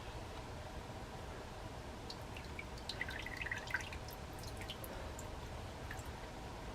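Water drips off soaked leather in quick, light, irregular drops clustered in the middle, faint and close over a steady low hiss.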